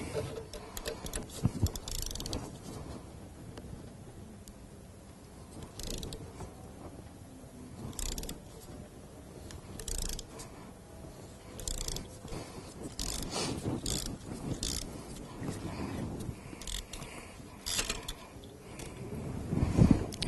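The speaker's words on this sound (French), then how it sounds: "Je prends ma clé à bougie et mon cliquet." Ratchet wrench with a glow plug socket loosening the glow plugs on a VW Golf IV TDI, quiet bursts of clicking and scraping spread unevenly across the clip, close up.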